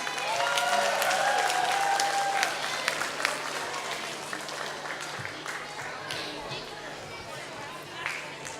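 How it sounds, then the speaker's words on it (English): An audience at a St John the Baptist School fundraising show applauds seventh-grade performers and choreographers, with steady, dense clapping that fills the room and slowly tapers, mixed with crowd chatter. "So a round of applause for our performers and choreographers themselves, our seventh graders."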